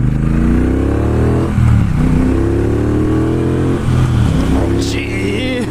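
A 2018 Triumph Bobber Black motorcycle accelerates hard under a rider, its engine note rising through the gears with brief dips at each shift, loud and close throughout.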